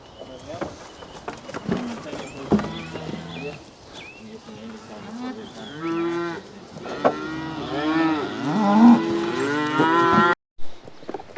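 Cattle and calves in farm yards moo repeatedly, several overlapping calls, some near and loud, others farther off, while people talk throughout.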